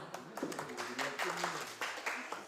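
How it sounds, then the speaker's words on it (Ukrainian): Applause at the opening of the Halychyna security firm's office in Ivano-Frankivsk: a short burst of scattered claps from a small crowd, heard under people talking. "Оплески, правильно."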